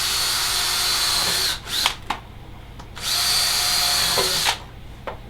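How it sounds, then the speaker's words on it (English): A power drill whines in two long, steady bursts with short pauses between, each ending with a brief spin-down and clunk, close up, drilling holes in an African skull during repair. "I'm just going to drill some semi-random holes."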